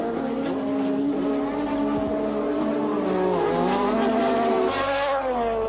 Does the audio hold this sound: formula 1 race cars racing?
yes